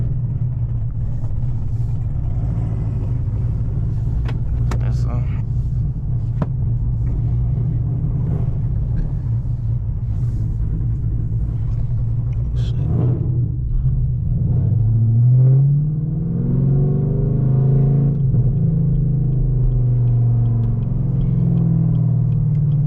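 A 6-speed Chevrolet Camaro ZL1 drives at night with a steady, loud low engine rumble and road roar throughout, swelling into a rising rev near the end.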